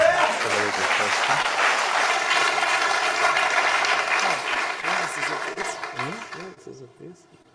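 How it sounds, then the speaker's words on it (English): Audience applause fills a town hall meeting in Crowborough, a sustained dense patter that runs loud and steady for several seconds before thinning and fading out at the end. "couldn't tell where I was trying to talk over applause"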